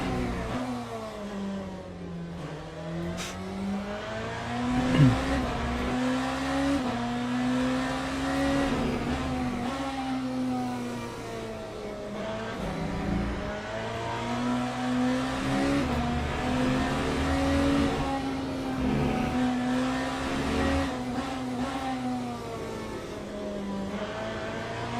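A BMW hypercar engine at the Qatar circuit in Le Mans Ultimate drones and revs from the cockpit, its pitch rising and dropping repeatedly through gear changes and throttle lifts, loud and continuous for the whole stretch.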